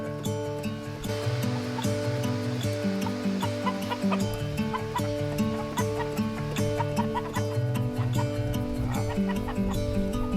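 Chickens being herded toward a chicken tractor cluck steadily at close range, a dense, overlapping stream of calls running without pause, with no talking.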